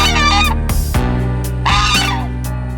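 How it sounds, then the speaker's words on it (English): Loud, honking turkey gobbles burst out in a few harsh, brassy bursts, close and overlapping, with no talking. "Thanksgiving turkeys."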